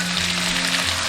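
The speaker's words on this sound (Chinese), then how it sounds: "炒香过后，下入鸡中菌跟芦笋" Mushrooms and asparagus stir-frying in a hot wok with aromatics and soy sauce, a steady close sizzle with faint scraping of stirring and a low hum beneath, no talking.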